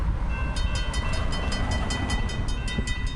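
A freight juice train from the Tropicana plant in Bradenton rolls past close by, a loud steady rumble with rapid regular clicking of wheels over rail joints and no voices.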